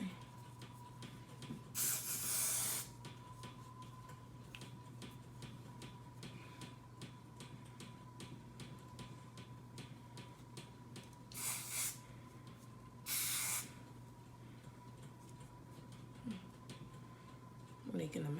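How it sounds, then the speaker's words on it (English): Got2b High Insta Hold hairspray is sprayed onto hair during a glueless wig install, in three short, close hissing bursts spread apart over a steady low background hum. "I'm gonna actually put on my hair like this, spray."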